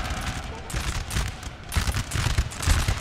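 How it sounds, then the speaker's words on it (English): Concentrated musket volleys crackle in the Napoleon Total War video game, dense overlapping gunfire in rolling bursts that grow louder toward the end, with faint voices mixed in. "Their centre is experiencing a lot of concentrated musket fire."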